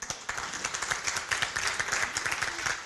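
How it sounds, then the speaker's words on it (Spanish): Clapping from a small audience at a citizen dialogue event in Chile on carers' legislative challenges, a steady patter of many hands filling the room at moderate level, with a faint voice briefly underneath. "Un aplauso para ti también, amiga querida."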